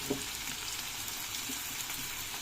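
Potatoes frying in a pan of oil, giving a continuous bright sizzle and crackle that stays fairly quiet and even throughout, with no voices.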